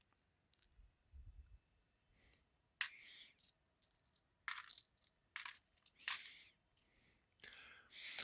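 Foreign coins from a mixed bag, including a Pakistani copper coin, are handled and dropped in a quiet room, giving a series of sharp metallic clinks and small clicks scattered unevenly.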